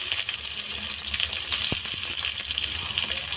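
Garlic and then onion dropped into hot oil in a frying pan for egg noodles, giving a steady, close sizzle with a brief clink near the middle.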